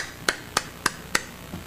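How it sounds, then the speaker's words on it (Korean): Four sharp, evenly spaced claps, close and crisp, with short gaps of quiet between them and no voices. "박수를 치옵나이다"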